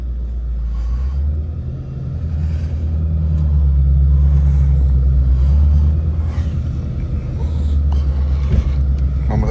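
Ford Mustang GT350 driving on the road, a steady low engine rumble and road drone inside the cabin that swells slightly midway and holds continuous throughout.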